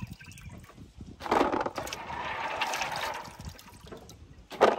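Açaí berries are washed by hand in water on a rural smallholding, giving sloshing and swishing splashes that swell in the middle and end in a sharper splash. The water sounds are close, with no talk.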